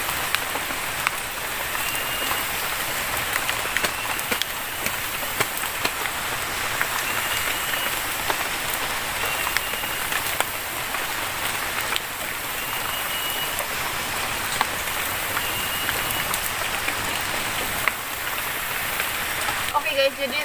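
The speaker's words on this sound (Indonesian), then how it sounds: "jadi berhubung masih hujan dan cuacanya dingin banget" Steady rain falling in a forest during the rainy season, a dense continuous hiss of drops with no breaks, moderately loud and even for the whole stretch.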